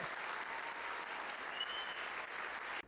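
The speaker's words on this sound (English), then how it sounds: "You guys can clap." An audience claps steadily and evenly throughout, a dense wash of applause at a live business talk with a Dragon's Den investor, with no voices over it before it cuts off abruptly at the end.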